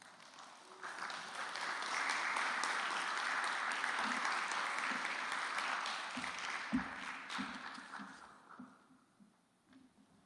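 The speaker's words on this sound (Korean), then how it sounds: "우리 강사님 나오실 때 여러분들이 큰 박수로 환영해 주시면 감사하겠습니다" An audience breaks into warm applause to welcome a pastor taking the stage for a lecture, a dense wash of clapping that swells, holds for several seconds, then thins out with scattered claps and a few voices as it fades.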